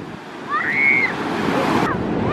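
Ocean surf rolls onto a beach as the tide comes in, giving a steady broad wash of waves with wind buffeting the microphone and a brief higher tone partway through.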